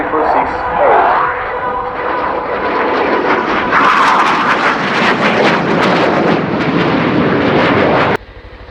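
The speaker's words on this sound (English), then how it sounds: "the last maneuver of the technical display of the U346 Harriers" Harrier jump jets flying a display manoeuvre at an air show: a loud, sustained roaring jet engine that swells and rumbles for about eight seconds, then cuts to a quieter background with no talk.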